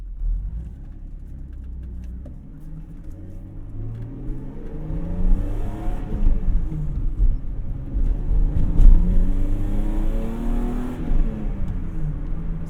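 An E30 BMW with a swapped-in S52 straight-six drives along, its engine droning and rising through the revs with a throaty intake moan rumbling up close inside the cabin.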